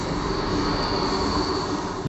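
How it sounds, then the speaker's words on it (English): Simulated train sounds playing in an office laboratory, a steady, loud broadband rumble of rolling rail wagons with a faint high squeal, continuous for the whole stretch. "even simulated train sounds"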